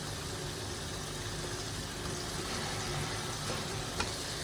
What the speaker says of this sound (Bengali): তারপরে দিয়ে দিচ্ছি আলুটা, দিয়ে আর একটু কষাই নেব